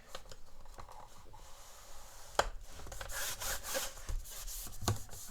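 Cardstock scored for Z-fold cards on the 8-inch edge, a dry scraping rub with sharp ticks and catches as the stylus drags along a board, close and alone.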